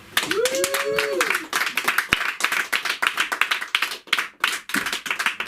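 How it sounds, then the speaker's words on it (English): Scattered clapping from a small open mic comedy audience in Los Angeles, sharp irregular hand claps close by, with voices and cheering mixed in and a rising whoop near the start. "Let's give it up for the one and only Dr. Michael LaPera"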